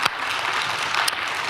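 An audience at a talk on President Yoon Suk Yeol's martial law declaration and US-China affairs breaks into brief applause, a steady wash of clapping with a couple of sharper claps standing out.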